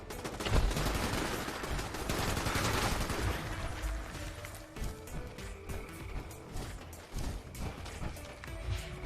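Dense automatic gunfire from players shooting burning and frozen robots in a Fallout 76 daily op, rapid bursts and heavy impacts that are loud at first, then break into choppier volleys.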